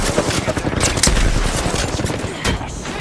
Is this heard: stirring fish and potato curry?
no